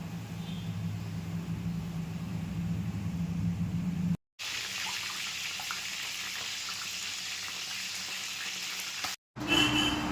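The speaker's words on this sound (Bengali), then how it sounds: "চিকেনটা প্রায় ফ্রাই হয়ে এসছে" Chicken fries in a pan for kacchi biryani, making a steady, moderate sizzle and hiss that cuts out briefly twice before resuming.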